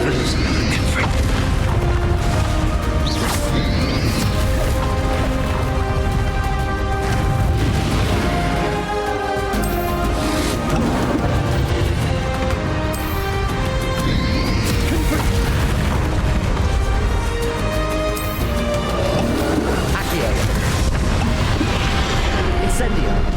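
Spell explosions from Bombarda and Confringo in the Hogwarts Legacy video game, dense repeated booms and crashes in a continuous loud battle mix with music and shouted incantations throughout.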